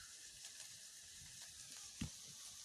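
Chhana (cottage cheese) frying in a pan gives a steady, soft sizzling hiss throughout, with a brief louder pop or clatter near the end.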